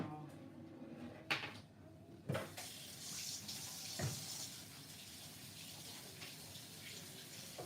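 A kitchen tap runs steadily while hands are washed, a close, continuous splash and gush with a few brief clatters and knocks.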